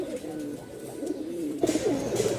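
A male Giribaz pigeon from Rajshahi, newly brought to the loft, gives a clear, close rolling coo that repeats and grows louder toward the end, heard alone without talk.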